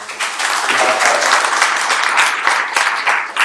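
Comedy special crowd applauding in a club or theater: a sustained wash of clapping from a sizable audience, loud and even throughout with a few sharper individual claps standing out.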